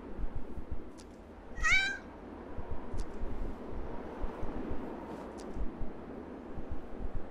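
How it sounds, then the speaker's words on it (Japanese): A pet cat in the horror video game Yomawari 3 gives a single clear meow over a low, steady rumbling ambience. "あ、自分の飼い猫か。"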